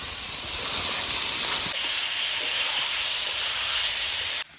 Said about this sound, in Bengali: দই মাখানো মাংসটাকে ভালো করে নেড়ে চেড়ে কষিয়ে নেব।